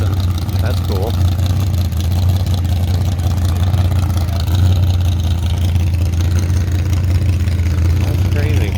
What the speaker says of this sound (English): That sounds angry. Oh, little Datsun.